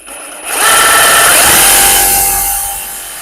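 Power cutting through a metal exhaust pipe for a 1962 Massey Ferguson 35 Super Deluxe tractor, a loud steady grinding whine that rises in and holds for a few seconds, with no talk.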